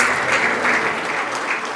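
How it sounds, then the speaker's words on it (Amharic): Warm, dense applause from an audience fills a hall at Berhan TV's 15th anniversary community service award ceremony, a short steady burst of clapping with no break. "አንድ ጊዜ ሞቅ ያለ ጭብጨባ"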